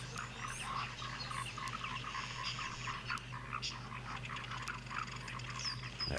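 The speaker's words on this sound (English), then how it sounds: "it sounds very much that the foam nest frogs are out. One of my more favorite calls" Foam nest frogs calling outdoors at night, a faint chorus of short croaks and clicks over a constant hum of background insects and ambience, with no voices.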